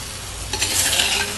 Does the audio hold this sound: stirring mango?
yes